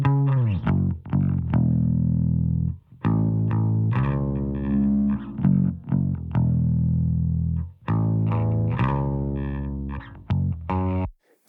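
Bass guitar line run through a parallel distortion chain with compression, thick and slightly gritty, playing in phrased bursts with short gaps, steady and upfront with no voices.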